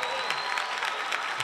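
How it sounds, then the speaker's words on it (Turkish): A Turkish TV studio audience breaks into steady applause, a dense even rain of many hands with faint crowd murmur beneath, held at moderate level throughout. "Bir alkışlıyoruz."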